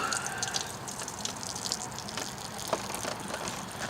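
Water trickling and splashing steadily from the drain outlet of a leaking portable air conditioner, soft and close, with a few faint drips standing out.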